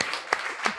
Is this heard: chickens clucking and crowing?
no